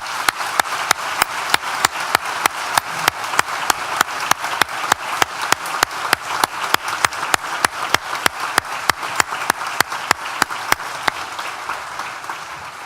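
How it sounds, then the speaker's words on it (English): Rhythmic, evenly spaced collective clapping from a graduation ceremony audience, a loud, steady beat of claps running throughout and easing off slightly at the end. "please join me once again for a big collective round of applause"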